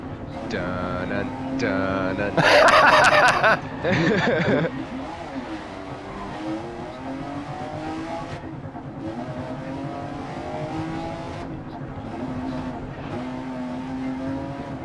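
A race car in GRID Legends keeps driving on a flat tire, its engine droning and revving steadily with a loud burst of noise early on, while a player talks over it throughout.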